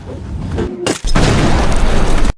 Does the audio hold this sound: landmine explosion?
yes